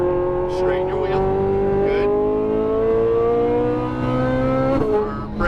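A Lamborghini Huracan Performante pulls hard on a Las Vegas race track, its engine note climbing smoothly in pitch through a sustained acceleration before a brief dip near the end, loud and close throughout.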